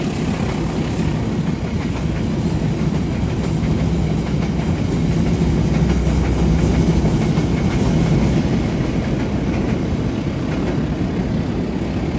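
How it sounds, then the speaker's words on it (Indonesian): The Papandayan passenger train rumbles past close by over the Cisomang bridge in a continuous heavy roar with faint rhythmic clacking of wheels, steady throughout. "sebentar lagi kita tunggu kereta api Papandayan teman-teman melintas di area sini ya"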